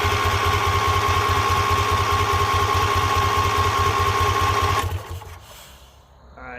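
A hot rod tractor engine turns over steadily on the key with a rapid, even rhythmic chug, loud and close, for about five seconds before stopping and falling to quiet.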